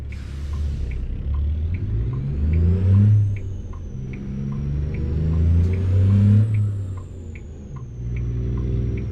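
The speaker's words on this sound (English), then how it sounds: "Listen to those low RPMs here." Truck engine in American Truck Simulator lugging at low RPM, a deep rumbling drone that swells and eases in long surges, with a faint whine and soft periodic ticks above it.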